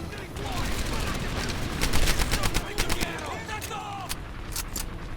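Rapid bursts of MP40 submachine gun fire in Medal of Honor: Airborne, a dense rattling stream of shots with sharper cracks layered on top, continuing throughout amid battle noise.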